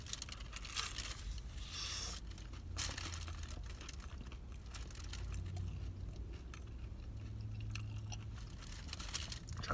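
Someone chews crispy, flour-dusted pizza crust from a pizzeria, soft crunching and mouth sounds repeating close to the microphone over a faint steady background.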